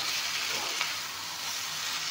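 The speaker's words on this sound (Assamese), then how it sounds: "এয়া চাওক, মাংসখিনি ভালকৈ ভাজি ল'লোঁ" Local chicken frying in a pan with spices, a constant close hiss and sizzle throughout and one faint tap of a utensil.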